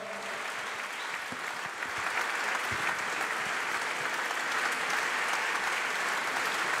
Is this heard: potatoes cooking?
no